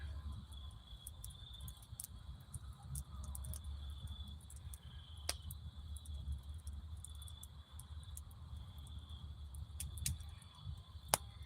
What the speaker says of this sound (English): You hear the crickets and little frogs and all that.